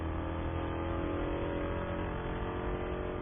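Spec Corvette race cars lapping Sonoma Raceway, a steady loud engine roar held throughout with no gaps, sounding like several cars at speed nearby.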